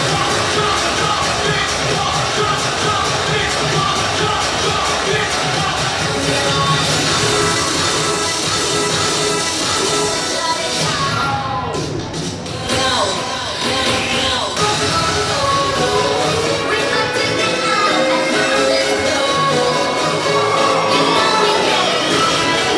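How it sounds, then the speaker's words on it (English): A cheer and stunt squad performs for a crowd at a Mountain Crest game, with a dense, steady wash of crowd noise, shouts and yells over music-like sound, loud and continuous throughout. "the cheer and stunt squad performing for the crowd here at Mountain Crest"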